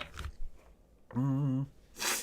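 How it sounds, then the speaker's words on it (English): A single forceful human sneeze, with a sharp sniffing intake and a voiced, harmonic burst, followed by a breathy exhale, close and fairly loud against near silence. "I sneezed so hard then I've slightly hurt my throat"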